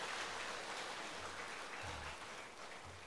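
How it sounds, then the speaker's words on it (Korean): A church congregation clapping together during a Sunday service in Seogwipo, heard as a faint, diffuse patter of many hands over a low hum, fairly distant and easing off slightly toward the end. "우리 함께 잘 지내자고 서로에게 격려하는 오늘 박수 한번 쳐주시면 좋겠습니다."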